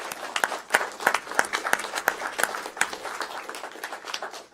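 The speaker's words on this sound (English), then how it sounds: "I want us to give her a big round of applause" Scattered, moderately quiet clapping from a small audience at a board of directors meeting, individual hand claps distinct and uneven, honoring a retiring colleague.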